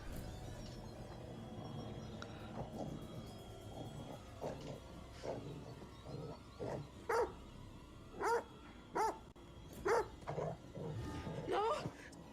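A dog in the horror video game The Devil in Me gives a series of sharp, evenly spaced barks in the second half, fairly quiet, over a low murmuring background.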